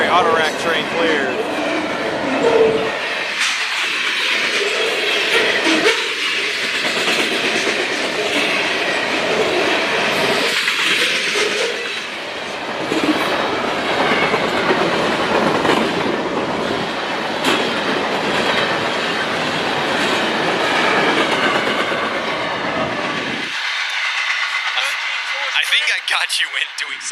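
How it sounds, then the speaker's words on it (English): Two fast Norfolk Southern and CSX freight trains meeting at speed along the Lake Erie coast in northwestern Pennsylvania, a loud sustained roar and rattle of cars that ends abruptly near the close, with people talking over it. "I don't think I've experienced a train meet like that where both trains were absolutely booking it."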